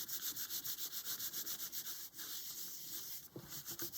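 Textured, dry polymer clay veneer is lightly burnished onto a clean tile with quick, regular rubbing strokes, soft and close, with no talking.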